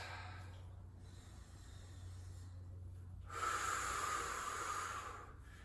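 Deep breathing during a standing leg and core exercise, faint and close. Quiet airy breaths build to one longer, stronger exhale near the middle that fades out, with no voices.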